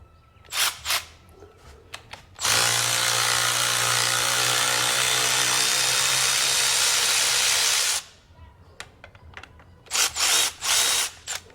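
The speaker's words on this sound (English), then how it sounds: "because I'm a modern mechanic now, battery powered cordless tool" A battery-powered cordless impact tool removing nuts on a 1915 Dodge Touring Car, with one loud continuous whirring burst of about five seconds, framed by short bursts and clicks before and after, close up and without talk.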